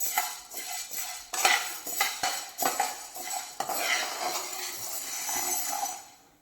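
Wheat grains being roasted in a pan and stirred with a metal utensil, producing repeated close scraping and clinking strokes in an uneven rhythm with a light rustle of grains.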